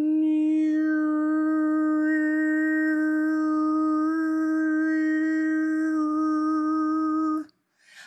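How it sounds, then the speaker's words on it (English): A voice sings in overtone style, holding one steady low drone while thin whistling overtones float above it, loud and close, stopping abruptly near the end. "Those are overtones that I'm making with my voice, and they're always there."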